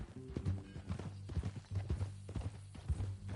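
Horse hooves clip-clopping steadily in Red Dead Redemption 2, a ranch horse walking at an even rhythm, close and continuous with no talk.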